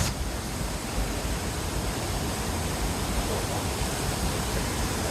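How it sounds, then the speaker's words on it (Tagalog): Nairn Falls near Pemberton, British Columbia, roars as a loud, dense, unbroken rush of falling water that fills the whole span without pause or talking. "Naren Falls."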